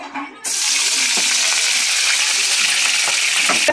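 Ginger garlic paste hitting hot oil, erupting into a loud, bright, continuous sizzle that starts abruptly and holds steady at close range.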